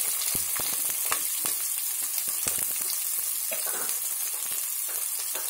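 Chopped onion and cumin seeds fry in hot oil for a cauliflower curry, a continuous bright sizzle with scattered crackles and pops, close and fairly loud, with no voices.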